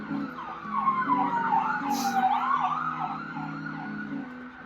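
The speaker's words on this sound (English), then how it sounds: "there's an ambulance" An ambulance siren wails, rising and falling continuously over a low engine rumble, moderately distant and steady throughout, with no talking.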